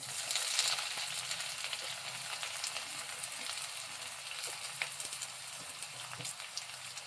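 Onion frying in a pan gives a soft, steady sizzle with faint crackles, quiet and continuous, without any voices.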